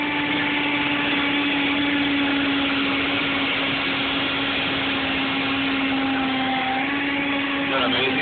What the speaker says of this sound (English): Watch that apple get actually sucked down into the blade.